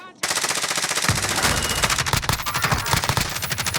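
Rapid, continuous automatic gunfire from the Call of Duty Warzone video game, loud and close, with long bursts of shots and faint voices underneath.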